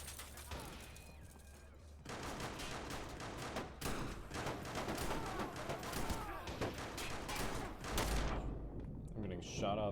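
Gunfire in the Watch Dogs video game crackles as dense, continuous bursts of shots and impacts, loud and busy through most of the stretch, with someone talking over the game sounds.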